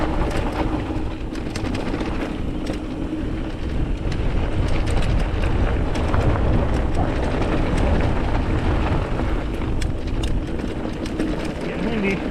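Steady wind roars across the microphone throughout a mountain bike ride on the Hurricane Rim trail, a constant broadband rumble and buffeting with no clear speech.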